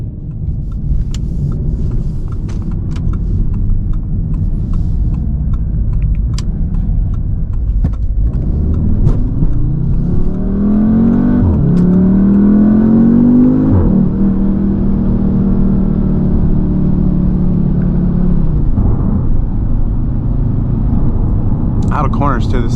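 A 2019 Audi TT S engine roars and revs hard through rising gears, a loud continuous rumble with pitch sweeping upward, close and sustained.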